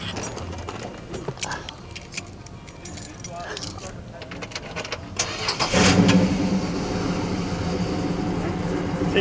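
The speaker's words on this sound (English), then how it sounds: "Can we hear how the car sounds?" A 1967 Dodge Coronet R/T with a 426 Hemi V8 is heard, with keys and cranking giving way near the six-second mark to a loud, steady, rumbling idle that carries on to the end.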